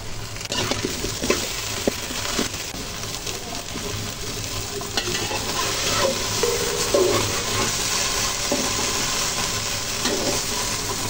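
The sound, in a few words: okra frying in oil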